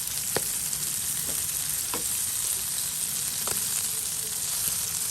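Hilsa roe and shrimp fry lightly in a pan with a steady, hissing sizzle, broken by a few sharp clicks and taps of stirring utensils, close and without talk.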